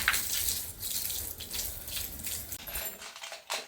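Water splashing during washing, a steady close wash of running and spattering water that continues without talk before dropping off near the end.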